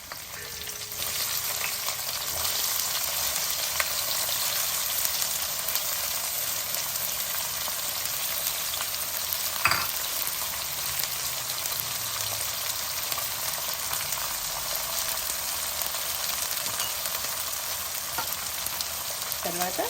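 Crushed garlic and onion pieces fry in a pan for a gongura chana dal curry, a steady loud sizzle with faint scraping of stirring running throughout and one brief clink near the middle.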